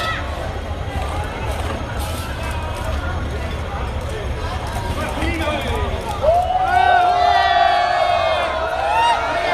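A crowd of protesters in a street cheers for a man holding a small fire extinguisher: a broad, continuous roar of voices with a rising whistle-like tone emerging in the second half.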